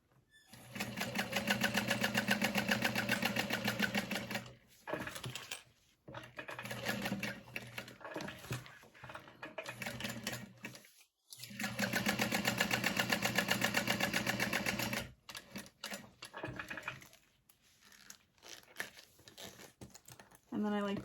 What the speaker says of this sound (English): And then I'm going to sew around the outside edge.